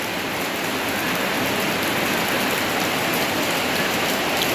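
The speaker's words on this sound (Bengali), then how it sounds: "বিকেলবেলা বৃষ্টি ঝপঝপে নেমে পড়েছে দেখো তো বৃষ্টি অবস্থা ঝপঝপে নেমে পড়েছে বৃষ্টি" Heavy afternoon rain pours down in a dense, steady roar of drops hitting surfaces, loud and unbroken throughout with no voices.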